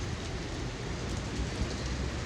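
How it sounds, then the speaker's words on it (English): Heavy rain pours down outdoors in a dense, continuous broadband hiss with steady loudness and no pauses, with no talk. "I didn't know it was gonna rain that hard though"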